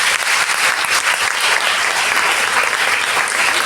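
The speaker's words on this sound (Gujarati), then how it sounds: "એટલે એકવાર તાળીઓ બધા શિક્ષકો માટે" An audience at a Gujarati reading-inspiration competition applauds the teachers with loud, dense, continuous clapping that fills the whole stretch at an even level, with no speech over it.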